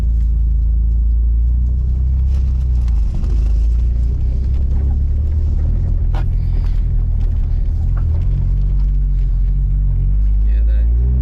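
A Mitsubishi Eclipse on its first drive gives a loud, constant low engine rumble from inside the car over a dusty surface, with people talking over it at times.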